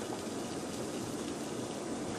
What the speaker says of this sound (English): Got some water boiling